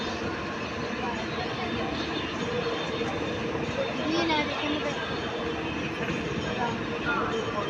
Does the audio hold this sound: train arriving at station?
yes